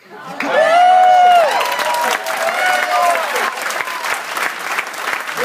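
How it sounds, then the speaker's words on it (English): A game show audience breaks into loud, sustained applause with some cheering, swelling quickly and then easing off, while a cheerful cue of music plays over it. "Round of applause for Dr. Garcia for getting on the board"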